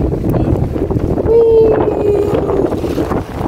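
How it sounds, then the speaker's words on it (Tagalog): Strong wind at sea before rain buffets the microphone with a loud, constant roar, mixed with rushing, gusty noise and a brief whistling tone. "dito na yung ulan. Lakas ng hangin."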